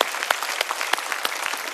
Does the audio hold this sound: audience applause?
yes